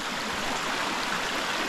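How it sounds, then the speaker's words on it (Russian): A river flows steadily nearby on a hike toward a waterfall near a village in the Gelendzhik hills, a constant broadband rush of water with no voices. "Вот она река."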